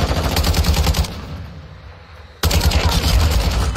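Bomb drop explosions in a team deathmatch video game, loud dense rumbling bursts of blasts and gunfire that fade into a quieter lull, then slam back in abruptly.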